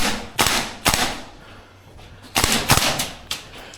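Tokyo Marui AK gas blowback airsoft rifle firing indoors in close quarters: a couple of sharp, snappy cracks, a pause, then a quicker burst of four or five shots, each with a bright metallic bolt clack and short echo.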